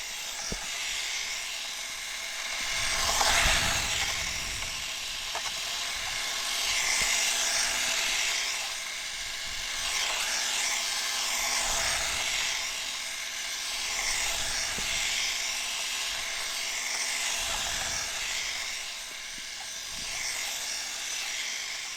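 An HBX2188A Gymkhana RC drift car's electric motor whines continuously as it drives, a high buzzing drone that swells and fades with throttle and passes, heard alone outdoors.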